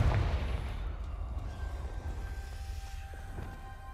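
A Confringo blasting-spell explosion in the Hogwarts Legacy game: a deep, rumbling boom at the start that decays into a low, sustained roar with faint tonal ringing over several seconds.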